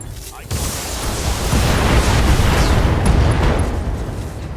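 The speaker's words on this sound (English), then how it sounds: "I did take out the second leg, but the machine gun explosion destroyed the entire chassis" A mech blowing apart from a machine gun explosion in the BattleTech video game: a sudden loud blast that swells into a sustained rumbling roar, with a voice talking briefly before it.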